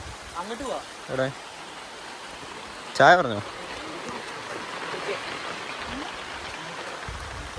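Heavy rain pours steadily outdoors in Wayanad as a dense, even hiss that fills the whole stretch, while people talk briefly over it.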